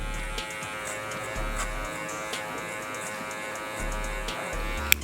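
An electric hair clipper buzzes steadily and close during a fade haircut, giving a constant droning hum with slight shifts as it moves over the head, ending in a sharp click.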